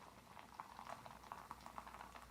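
A drink fizzing and foaming in a glass after a hard pour, with a steady close crackle of bursting bubbles and small pops, quiet and alone.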